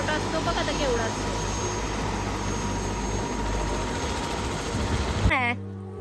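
A helicopter passes overhead near Jaigad fort on the Konkan coast, its steady broad rotor and engine roar loud and continuous before cutting off abruptly near the end.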